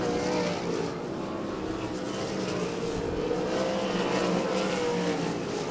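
Race cars roar around the oval at Devil's Bowl Speedway in a steady, dense engine drone, several cars close together, loud and continuous without a break.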